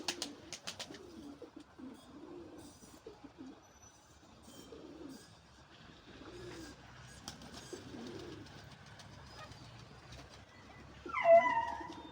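Pigeons coo repeatedly in a soft, rhythmic series close by, with scattered clatter and a brief sharper bird call near the end.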